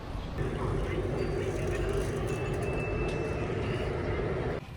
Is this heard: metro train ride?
yes